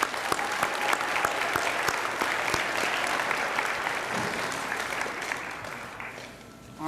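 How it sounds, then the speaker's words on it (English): An audience at an eighth-grade school awards ceremony gives a sustained round of applause, dense clapping with a few louder claps standing out, gradually thinning and fading toward the end. "go ahead and give them one more round of applause"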